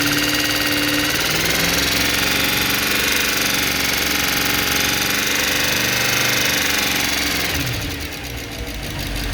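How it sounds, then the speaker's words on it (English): A 2011 Mercedes-AMG E63 with 130k km holds steady at about 3000 RPM, a dense continuous engine roar that drones loudly throughout before easing slightly near the end. "Go 3000 RPMs and stay there."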